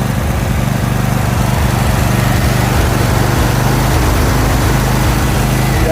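Lawn tractor engine running steadily at full throttle, a loud, close, unbroken buzzing drone with no change in pitch throughout.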